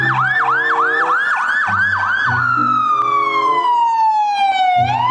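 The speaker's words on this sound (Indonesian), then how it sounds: "ada pemadam kebakaran" Toy fire truck siren, loud and close, first a rapid warbling wail, then a long falling tone, with a low toy engine or motor hum beneath it.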